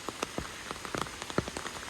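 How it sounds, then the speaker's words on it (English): Rain falls outside in scattered close drops tapping a surface, soft and irregular over a faint steady hiss, with no voices. "it is raining"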